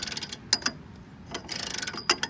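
A homemade breaker bar works on a Honda Civic engine mount bolt, giving close, loud bursts of rapid ratcheting clicks and sharp metallic ticks separated by brief pauses.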